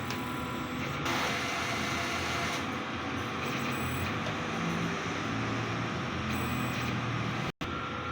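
DTF printer running a print head cleaning cycle, a continuous mechanical whir and hum with small shifts in pitch and a brief cut near the end.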